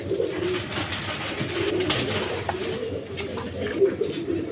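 Indian Kaldom pigeons cooing at a pigeon seller's stall, soft low throaty coos repeating under a busy ambient hum, fairly close, with faint voices in the background.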